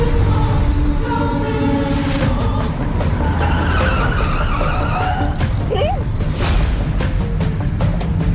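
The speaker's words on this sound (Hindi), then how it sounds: "प्रेम, तुम गाड़ी इतनी तेज क्यों चला रहे हो?" A car driven very fast with tires skidding, a loud continuous engine roar and screeching squeal running throughout, with brief bursts of louder noise.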